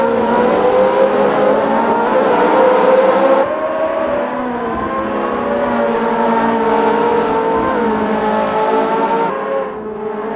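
Ferrari F355 race cars on the Hungaroring circuit in Assetto Corsa, with a pack of engines droning loudly and continuously at high revs. The pitch shifts as the cars change gear, and the roar drops abruptly in places.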